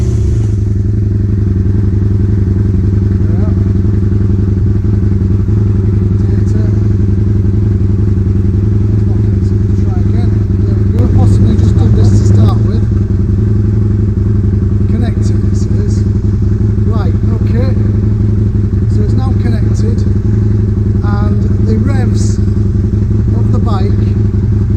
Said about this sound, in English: I'm just going to run the engine